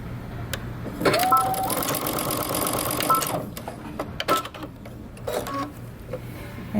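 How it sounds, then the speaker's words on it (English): A sewing machine runs in a steady whirring burst as it stitches and back stitches fabric, close and even, then stops and leaves quieter handling noises. "And I'm going to stitch, back stitch."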